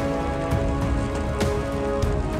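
Icy rain falls steadily on a mountain trail, a dense continuous patter with scattered sharper drops, close and fairly loud, with no voices.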